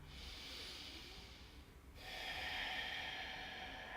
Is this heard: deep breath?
yes